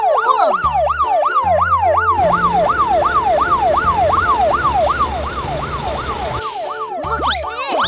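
An ambulance siren wails continuously in a rapid rising and falling sweep, loud and close, over a low rhythmic musical backing.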